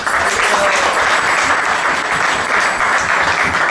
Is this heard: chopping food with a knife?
no